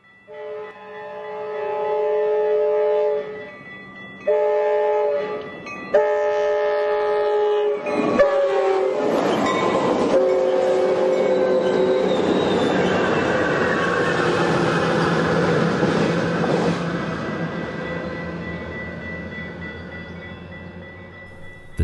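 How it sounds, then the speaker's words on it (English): A westbound Metrolink commuter train sounds loud horn blasts, then rumbles and screeches steadily into the Upland station, the noise gradually fading as it slows. "Westbound Metrolink train 357 arrives at the Upland Metrolink station just 6 miles down the"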